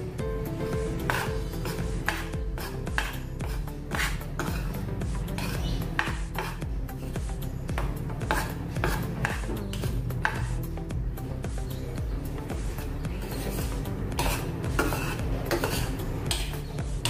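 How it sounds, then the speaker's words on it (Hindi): A spoon stirs ghee into a thick mixture in a pan, with rapid rhythmic scraping and clinking against the metal, continuous and close with a low background hum. "अभी इसमें और से थोड़ा सा घी डाल देंगे, आधा चम्मच। अच्छे से और से मिक्स कर लेंगे।"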